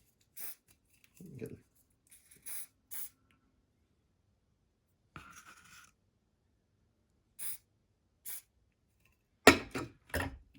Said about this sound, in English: give it another spray from a distance